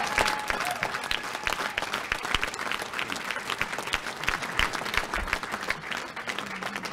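An audience applauds a political leadership acceptance speech, a loud, sustained crowd ovation full of crisp individual claps with occasional thumps underneath.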